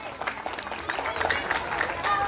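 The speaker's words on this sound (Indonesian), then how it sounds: "Tepuk tangan untuk santri Makkiyah ini." Applause from an audience at an Islamic religious lecture honoring pesantren students, a steady wash of clapping with crowd murmur and some voices mixed in, moderately loud throughout.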